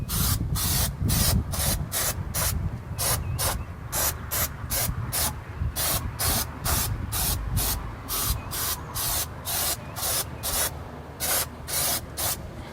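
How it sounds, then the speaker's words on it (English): Quick rhythmic pump-spray bursts of cleaner hitting the engine of a 1977 Chevy C20 pickup, loud and close, many short hisses in a steady train with no talking. "All right, we're gonna give this a real quick spray."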